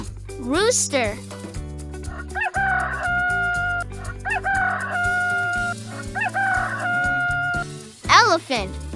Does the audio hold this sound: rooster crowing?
yes